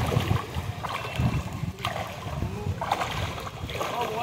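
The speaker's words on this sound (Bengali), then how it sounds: "জল এদিকে আসছে" Rainwater floodwater flows into homes in Krishnanagar, a continuous close rushing and trickling with occasional splashes, while people talk nearby in the background.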